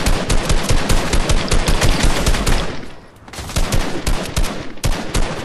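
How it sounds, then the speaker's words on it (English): Rapid automatic gunfire in a shooter video game rattles loud and close in continuous bursts, breaking off briefly midway before resuming at full intensity. "They're shooting at us."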